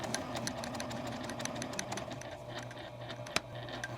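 A sewing machine back stitches a beginner zipper pouch at the zipper tape, a quiet, rapid, rattling patter of needle strokes running continuously with a few sharper clicks.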